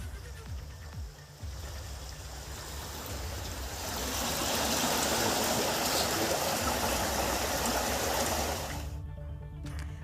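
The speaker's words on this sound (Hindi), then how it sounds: "बहता हुआ पानी घरों तक पहुंच रहा है।" Rainwater rushes through a flooded street after heavy rain, a steady broad wash of flowing water that swells louder midway, with an engine-like rumble underneath and a voice talking over it.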